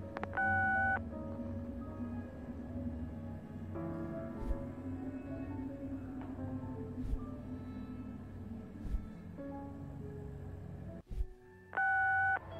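In the PC horror game Answer Knot, a phone call goes unanswered: a repeating electronic tone pulses with steady beeps over a low hum, ending in a louder burst of the tone.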